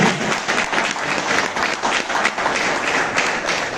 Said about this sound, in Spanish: Si va a dar un aplauso al Señor, por favor